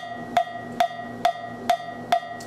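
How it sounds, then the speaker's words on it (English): A small cha-cha bell struck in a steady repeating cha-cha-cha pattern, five bright metallic hits evenly spaced with short ringing tails, played alone and close. "smaller bell, the cha-cha bell,"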